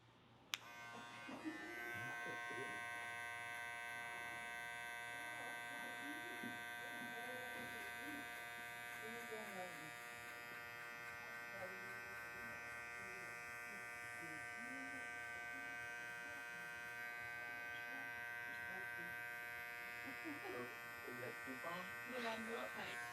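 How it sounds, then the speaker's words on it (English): A barber's electric hair clipper runs continuously while cutting a low skin fade, a steady close buzz with someone talking over it. "Now I'm going to close my clipper lever all the way and start working on erasing this line right here."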